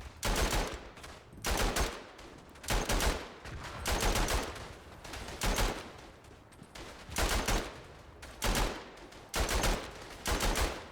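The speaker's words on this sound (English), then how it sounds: "Right, plant the machine gun." Sustained machine gun bursts from the Verdun video game, loud, repeated volleys of rapid fire with brief gaps between them, no talking.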